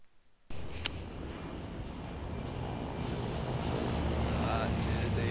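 A big plane flies overhead in Left 4 Dead, its engine drone cutting in abruptly and swelling into a loud, sustained roar as it passes.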